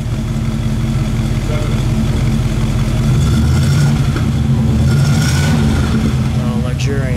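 A 1949 Cadillac Series 62 convertible engine idles loudly indoors and then swells into a smooth rev that holds steady, the low rumble dominating with voices briefly heard.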